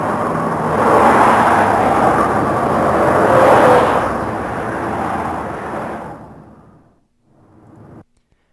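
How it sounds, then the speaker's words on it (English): Game audio of cars in the distance in Payday 2, a steady broad rumble that swells and fades for several seconds before cutting out, with a brief faint return at the end. "Sounds like cars in the distance."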